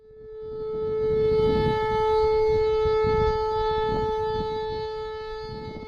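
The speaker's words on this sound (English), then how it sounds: "it's likely just a malfunctioning tornado siren" A malfunctioning tornado siren wails in bad weather, a loud sustained tone that swells and holds with a steady pitch and distant rumbling noise beneath it.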